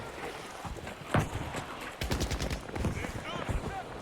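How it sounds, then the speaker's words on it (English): Artillery strikes and bombs dropping in a competitive strategy video game match, with rapid bursts of explosions and gunfire-like cracks in quick clusters, loud and close, alongside other battle noise. "There's bombs dropping."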